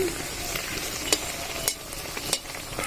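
Coriander-leaf paratha fries in a pan with a steady low sizzle. A few sharp clicks and spatula scrapes punctuate it at intervals, and the sound is close and unaccompanied by talk.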